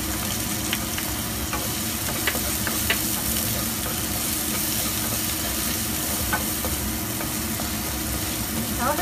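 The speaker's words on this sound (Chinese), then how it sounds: "咁烧热个镬，加咗油落去，但就炒香啲料头啦，加啲姜蓉啦、葱蓉啦" Ginger and scallion stir-fry in hot oil in a wok, a constant close sizzle with light scraping and crackle that runs evenly for the whole stretch, a voice talking over it.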